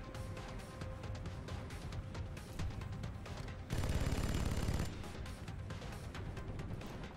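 Rapid gunfire from the video game XCOM Long War crackles as dense, steady bursts over a busy game soundscape, with a louder stretch of continuous firing in the middle.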